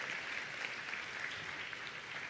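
An audience at a scholarship symposium breaks into sustained, even applause, a dense wash of many hands clapping at moderate volume with no voices above it.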